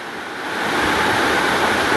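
Dunn's River Falls in Jamaica gives off a steady broadband roar of cascading water, close and loud, swelling slightly, then holding even and continuous, with no voices.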